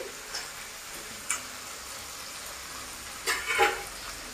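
Chopped tomatoes frying in an oily pan for a Bengali-style prawn curry, a steady close sizzle with a couple of brief stirring scrapes rising over the hiss.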